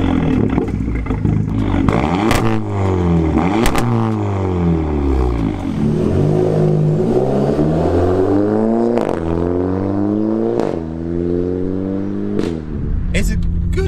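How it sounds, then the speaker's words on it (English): Volkswagen Polo GTI engine starts and is revved repeatedly, loud and close, with rising and falling pitch sweeps and a few sharp clicks, people talking over it. "let's get the engine started. Have a little listen to it. Give it a rev as well"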